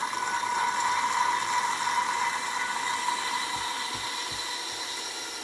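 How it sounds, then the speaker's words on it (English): A steady mechanical whirring grind runs throughout, a drill-driven valve seat cutter working on an engine valve seat, with a few soft low knocks near the end. "until you hear the tone of the grinding mechanism change"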